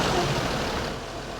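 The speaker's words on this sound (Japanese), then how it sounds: "ちょっとエンジンかけますよ。" A Toyota JZX100 Chaser Tourer V with a 1JZ-GTE engine idles steadily after starting, its low running hum joined by a rattling from a worn bearing in the radiator sub-fan, heard up close and alone.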